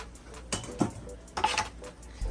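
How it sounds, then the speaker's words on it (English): Salmon and rice stirred in a pot, with a few scraping clinks of a utensil against the metal in irregular bursts, close and fairly loud amid quiet kitchen background. "Going to give that a quick stir."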